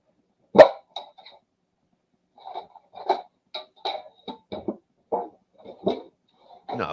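A dog barks in short, scattered bursts, one sharp loud bark followed by a series of softer barks and yips spread across the stretch, with quiet gaps between them and no talking.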